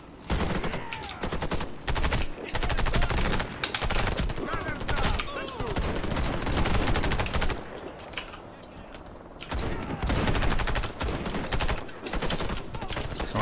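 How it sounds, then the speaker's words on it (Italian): Rapid bursts of automatic gunfire aimed at the player in the free-to-play shooter Warface's co-op Brick Wall mission, loud sustained volleys with short pauses between strings of shots. "C'è qualcuno che mi spara"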